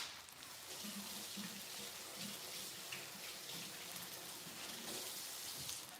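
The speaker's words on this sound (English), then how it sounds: "Let me wash my hands." Tap water runs steadily into a kitchen sink during handwashing, a soft, even splashing hiss with faint clinks, quiet and uninterrupted, and nobody speaking.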